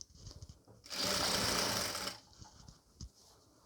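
A sewing machine runs a steady stitching burst for about a second while sewing a nighty's neck and shoulder, loud and close, with quieter handling knocks before and after.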